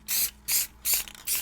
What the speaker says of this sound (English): I'm going to give that a second spray.